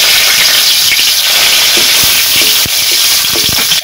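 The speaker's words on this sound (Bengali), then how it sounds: "কড়াইতে তেল দেওয়া হয়ে গেছে। এখন আমি দিয়ে দেব শুকনো লঙ্কা, দিয়ে দেব গোটা জিরে, আর দিয়ে দেব তেজপাতা।" Dried red chillies, whole cumin seeds and bay leaves frying in hot oil in a kadai, a loud, steady sizzle and hiss with occasional small pops and crackles throughout.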